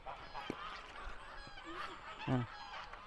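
Faint geese honk a few times at a distance amid background murmur and light knocks, with one louder honk near the end, as people feed them at Bukit Jelutong Eco Community in Malaysia.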